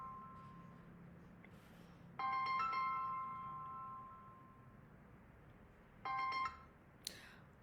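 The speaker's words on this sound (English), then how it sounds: "Forgot to put my phone on mute." A phone left off mute rings through a quiet room, with two bursts of steady electronic ringtone at moderate loudness, followed by a brief sharp chirp near the end, with no voices.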